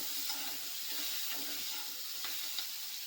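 Tomatoes, peas and cauliflower roasting in a hot pan while being stirred, giving a soft continuous sizzle with light scraping stirs, close and fairly quiet, with no voices.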